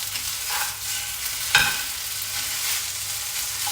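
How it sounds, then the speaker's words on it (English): Sticky rice noodles for Vietnamese hu tieu xao fry in a pan with a steady broadband sizzle, broken near the middle by one sharp scrape of the utensil stirring through them; no voices. "So getting back into stirring the rice noodles for a bit."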